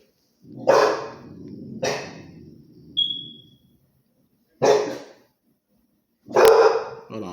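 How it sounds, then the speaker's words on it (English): Dogs bark close by in separate loud bursts, about four barks spread over several seconds with pauses between them. A short high electronic chirp sounds once in the middle. "I'm just trying to see what these dogs barking at"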